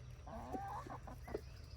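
A backyard hen with a healing sore spot on her back gives a few soft, low clucks, quiet and a little distant over a steady background hum.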